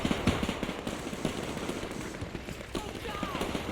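Dense, continuous gunfire crossfire from the World War II strategy game Men of War 2, rapid machine-gun bursts and scattered shots layered over a busy battle background, steady and fairly loud throughout.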